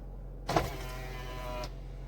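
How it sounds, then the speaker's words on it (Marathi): An electric power window lowers in the cab of an Ashok Leyland dumper truck: a single smooth motor whirr lasting about a second, starting with a click and ending with a soft stop, over a low steady hum. "आणि विंडो डाऊन करूया"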